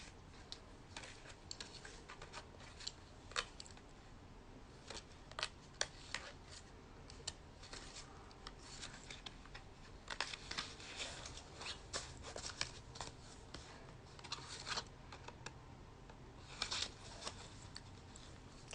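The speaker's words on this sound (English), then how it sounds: "let's put the cards away that we had before" A stack of playing cards is gathered up and put away, giving soft irregular riffles, taps and clicks at close range in a quiet room.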